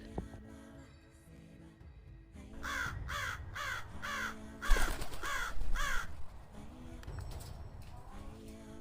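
Crows caw in a run of harsh repeated calls over a layered musical backdrop, several loud rhythmic caws clustered in the middle, part of a Halloween quiz clue for the film The Birds.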